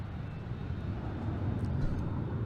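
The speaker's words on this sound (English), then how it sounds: "Big plane." A large airplane passes near Gillespie Field airport, a broad, steady roar of jet or engine noise that swells slightly, heard at a moderate distance with no talking.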